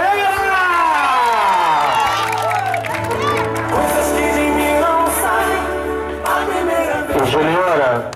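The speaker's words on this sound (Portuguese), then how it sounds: "palmas pra galera!" A studio audience cheers and whoops loudly for a tribute segment, excited shouting voices rising over steady clapping throughout, close and dense with no pause.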